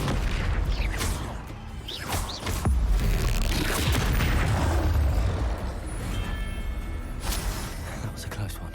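A Confringo explosion spell in Hogwarts Legacy bursts with a heavy boom amid continuous battle noise, with several sharp blasts and crashes over about nine seconds, loud and close, with a voice shouting over the fight.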